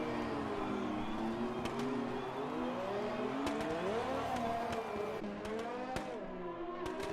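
McLaren Formula 1 cars in the F1 2020 video game at the Abu Dhabi Grand Prix: steady, high-pitched racing engines rise and fall in pitch as the cars hold formation, with brief tire squeals, continuous and fairly close.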